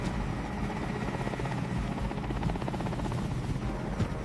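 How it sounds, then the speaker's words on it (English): A helicopter over the dry outback of Central Australia, its rotor chop pulsing steadily and loudly with a deep engine drone, no voices. "Over the scorched sky of Central Australia, the sound of helicopter blades screeched, tearing the silence apart."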